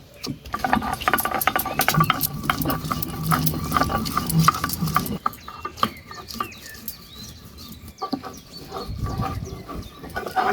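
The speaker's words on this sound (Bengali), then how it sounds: "মশলাগুলো বেটে নেব। আদা রসুন আর কাঁচা লঙ্কা" Ginger, garlic and green chilli are ground into a paste: a continuous coarse scraping and rubbing texture with rattly bursts that eases off midway, then resumes.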